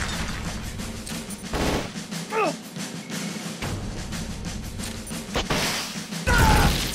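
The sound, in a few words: Stinger homing missile fired in Metal Gear Solid: Peace Walker video game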